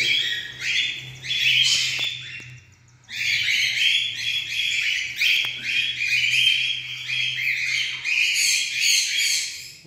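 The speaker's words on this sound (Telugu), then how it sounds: "వేరే బర్డ్స్ వచ్చేసి పార్ట్స్లో పిల్లల్ని అటాక్ చేస్తున్నాయి." Birds in a breeding colony squawk and chatter harshly as they fight over chicks, a dense run of overlapping rasping calls close by, pausing briefly near the start before resuming over a low steady hum.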